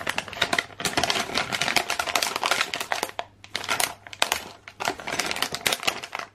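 Crinkling and rustling of a plastic pouch holding Playmobil figures as it is pulled and torn open by hand, in dense bursts with two short pauses, close and fairly loud, with no talking.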